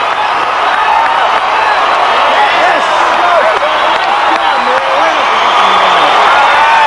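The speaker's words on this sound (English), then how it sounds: "Listen to the crowd." A large arena crowd at the 1991 World Gymnastics Championships roars and cheers after a triple back dismount from the men's high bar, a loud sustained wash of cheering, whoops and clapping, with a commentator talking over it.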